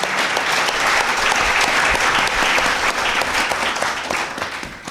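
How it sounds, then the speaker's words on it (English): Conference audience at a USDA veterans panel session giving the panel a round of applause, a full steady wash of clapping that stays loud for about four seconds and then begins to fade. "Can we just give folks a round of applause up here?"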